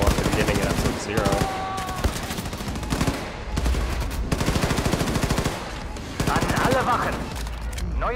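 Rapid automatic gunfire in Wolfenstein 2's Freedom Chronicles Gunslinger Joe episode, a drum-fed weapon fitted with recoil reduction, rattling in dense continuous bursts with brief pauses and loud impacts throughout.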